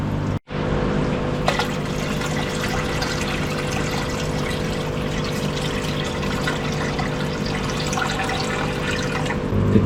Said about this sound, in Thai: เดี๋ยวผมก็จะเอาน้ำมา เติมให้เต็มนะครับ